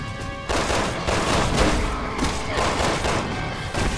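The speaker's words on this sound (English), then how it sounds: "we're all shooting at him and nothing's happening" Rapid gunfire from a co-op session of the video game Resident Evil 6, a dense, loud barrage of repeated shots and crashing impacts running continuously with a brief quieter lull at the start and faint voices underneath.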